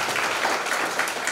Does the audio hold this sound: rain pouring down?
no